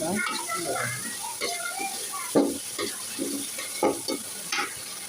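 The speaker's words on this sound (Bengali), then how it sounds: "রসুন বাটা ভেজে নিন" Garlic paste fries in a pan on a cooking fire, a steady sizzle broken by several sharp scraping stirs of the spoon, with faint background sounds of a household kitchen.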